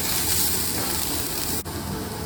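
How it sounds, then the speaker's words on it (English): Onions roasting in oil with turmeric and chili powder, a brief, steady close sizzle with a single sharp click partway through, with no voices. "Some turmeric, spice spoon of turmeric, a bit of chili powder. That roast along with the onions."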